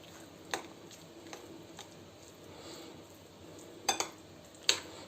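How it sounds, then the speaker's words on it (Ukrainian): A spoon clinks and scrapes against a metal pot of green borscht with sour cream a few times amid quiet background hiss, with sharper knocks near the end. "Перемішую тако."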